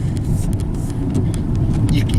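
A 2017 Jeep Renegade Trailhawk SUV with a 2.4L engine cruises along a road, giving a steady low cabin rumble and tire hum with faint ticking above it.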